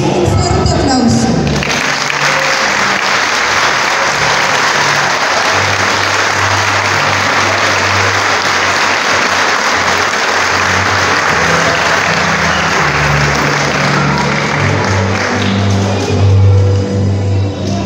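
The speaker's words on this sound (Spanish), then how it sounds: "Quiero que le brindemos a todos ellos un fuerte aplauso." Loud, sustained audience applause at an eighth-grade graduation ceremony, many people clapping steadily for nearly eighteen seconds, with a low background tone and faint voices underneath.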